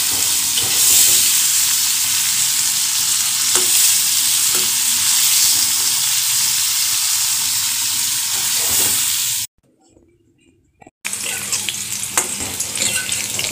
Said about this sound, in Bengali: মাছগুলো কড়া করে ভাজবো না,